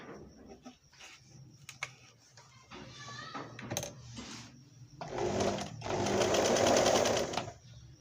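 A Singer 1288 sewing machine sewing a plain straight stitch with small stitches, quiet handling clicks, then a loud steady burst of rapid whirring and stitching for about two seconds close by.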